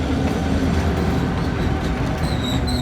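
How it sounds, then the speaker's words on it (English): A train with two locomotives, one pushing from halfway back, rumbles past with a steady, loud roar of wheels and cars and faint high squeals toward the end. "This one actually has 2 locomotives in it, on it."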